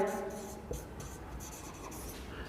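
Pen strokes of a hand-written physics solution for a Lami's theorem problem, a steady scratchy scribbling with a brief sharper tap, close and fairly faint, with no talking.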